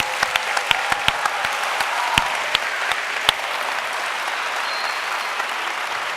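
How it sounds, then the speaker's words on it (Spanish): Steady applause from a crowd at a reading clubs' gathering in Galicia, a dense wash of clapping with a few louder individual claps standing out near the start. "Aplauso enorme para César Mallorquí."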